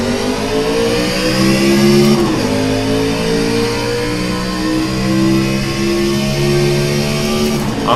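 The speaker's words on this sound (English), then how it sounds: "Up through the gears we go." A NASCAR Xfinity car in the iRacing game accelerates up through its gears, a loud steady engine drone that climbs in pitch, drops sharply at a shift, then climbs again, with no voice over it.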